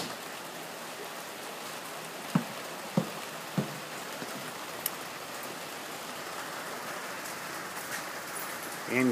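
Steady rain falls outdoors on a rainy day in California as someone leaves the house, a constant hiss of drops with a few sharp close taps and knocks, no speech heard.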